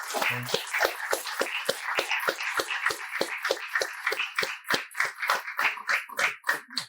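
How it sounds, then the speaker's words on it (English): Applause from a lecture audience after a speaker's talk, a moderate crowd clapping steadily for about seven seconds before thinning and fading out, with no talking. "Can we give Dr. Durham a round of applause?"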